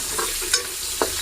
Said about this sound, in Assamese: আলুখিনি প্ৰায় আধা সিজা হোৱালৈকে ভাজিয়ে থাকিব লাগিব